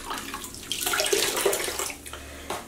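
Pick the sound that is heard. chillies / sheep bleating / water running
water running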